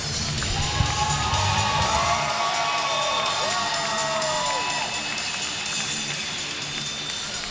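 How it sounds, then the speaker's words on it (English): Spectators at a STIHL Timbersports women's championship cheer, whoop and shout loudly for the top competitors, a dense continuous crowd roar with voices rising and falling throughout. "Big round of applause."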